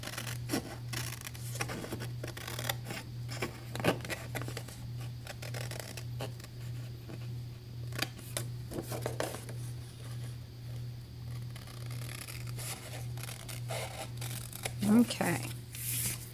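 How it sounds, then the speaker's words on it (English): Scissors trim the other side of a paper file folder along its factory fold, giving quiet, intermittent snips and rasping cuts over a steady low background hum. "Well, let's cut the other side."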